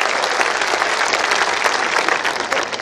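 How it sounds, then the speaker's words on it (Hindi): An audience at a Hindi comic poetry gathering claps loudly and steadily. The dense applause carries on evenly for a few seconds with no talking over it. "ताली बजनी चाहिए।"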